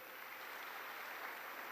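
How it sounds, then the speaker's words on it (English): Steady applause from a large audience at a Commonwealth youth forum opening ceremony in Kigali, a dense even wash of clapping heard at some distance, fairly faint and continuous throughout the brief moment. "A big round of applause for Rijve."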